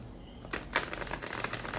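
Rider-Waite tarot cards being shuffled by hand, a soft papery riffle of quick flicks starting partway in and rustling on continuously, close and moderately quiet with no talk.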